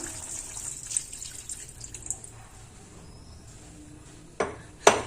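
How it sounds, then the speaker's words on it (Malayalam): Coconut milk is poured into a pot of beef stew, giving a soft, steady liquid wash that ends in two louder splashy bursts close by. "ഇനി ഒരു അരമുറി തേങ്ങയുടെ പാൽ എടുത്തതാണ് അതും കൂടെ ഒന്ന് ഒഴിച്ചു കൊടുക്കാം"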